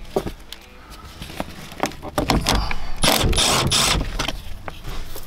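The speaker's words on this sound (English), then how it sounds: "Then we can use a 10 millimeter socket to undo the screws here." A 10 mm socket on a ratchet clicks in quick, repeated bursts while undoing screws on a car's A-pillar, close and fairly loud, with brief rustling between strokes.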